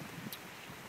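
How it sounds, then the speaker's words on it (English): Strong outdoor wind as rain begins, a brief burst of steady, loud rushing noise buffeting the microphone. "it's just really windy, so it's starting to rain"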